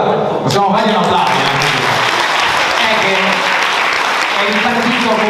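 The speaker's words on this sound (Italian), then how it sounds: "possiamo fargli un applauso" A crowd at a political event in Porto Viro breaks into loud, sustained applause, dense clapping with voices mingled in.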